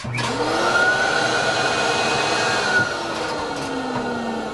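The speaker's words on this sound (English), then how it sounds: "Give it a quick vacuum overall." A vacuum cleaner runs continuously nearby cleaning an HP Q2612A toner cartridge, with a steady whine, its pitch shifting slightly as it moves, drowning out other sounds.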